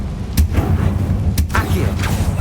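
Explosive bursts from the Confringo fire spell in the Hogwarts Legacy video game, two sharp blasts about a second apart over a rumbling low background, with a fainter crackling burst after.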